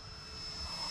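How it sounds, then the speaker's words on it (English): A 3D printed RC F22 jet model running on a 6S battery flies past with a steady, loud whirring engine drone that swells slightly toward the end. "Look at this plane."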